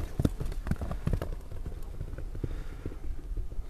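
A ridden horse moves across ground with rhythmic clip-clopping hooves, fairly close and steady throughout, with faint outdoor background noise and no clear talking.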